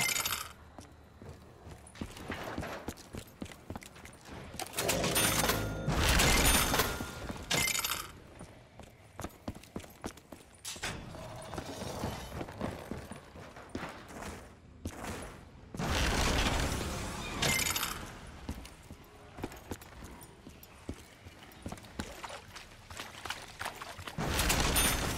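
Gunfire from Call of Duty Zombies on the Shangri-La map, with loud rapid bursts and crashing impacts in uneven waves, separated by quieter stretches of game noise.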